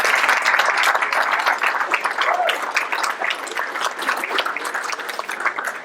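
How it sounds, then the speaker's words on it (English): Audience applause at a community speakeasy event, a crowd clapping steadily at moderate volume with individual claps distinct, holding for several seconds and easing off slightly toward the end. "Let's give them a great hand of applause."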